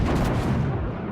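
Main guns of the battleship Warspite firing in World of Warships: a single sustained, loud low boom filling the whole moment, with no talk over it.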